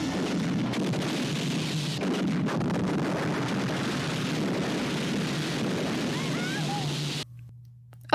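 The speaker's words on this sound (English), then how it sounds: "A rocket launcher?" A rocket launcher fires and explodes in the 1986 Hong Kong film The Seventh Curse, heard as a dense, rumbling blast roar that stays loud for about seven seconds before cutting out abruptly.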